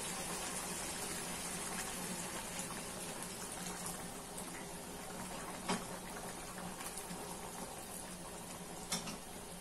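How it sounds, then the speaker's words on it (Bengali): Hot water poured into a pot of goat-meat curry, a steady, fairly quiet rushing splash lasting throughout, with a couple of faint clinks near the end and no voice. "এর মধ্যে আমি গরম জল দিয়ে দেব"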